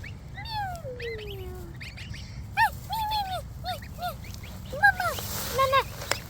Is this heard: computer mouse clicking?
no